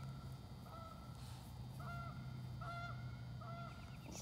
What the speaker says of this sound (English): See the geese?